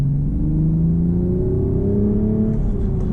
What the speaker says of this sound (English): we'll run up through the gears, second, third